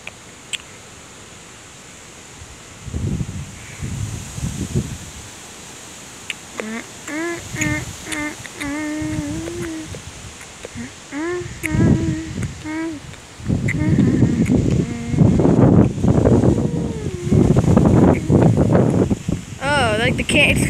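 Extreme wind from Hurricane Harvey roaring and buffeting the microphone in loud gusts, with a person talking intermittently over it.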